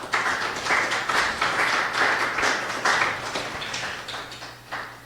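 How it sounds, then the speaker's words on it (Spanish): Congregation applauding during a Spanish-language church sermon, a steady wash of many hands clapping throughout, fairly even in loudness with slight swells, no speech over it. "Denle otro aplauso al Señor, hermano."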